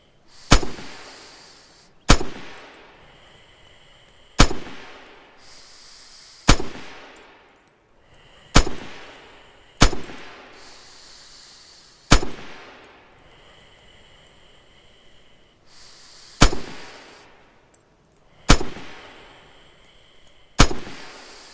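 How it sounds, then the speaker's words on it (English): Ten single rifle shots in the game Red Orchestra 2, each a loud crack with a decaying echo, spaced about two seconds apart at a slow, fairly even pace. "Now use this single shot mode. Open fire."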